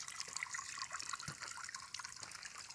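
Water from a garden hose runs steadily into the top of a backyard waterfall, a continuous close splashing and trickling rush with a few brighter drips.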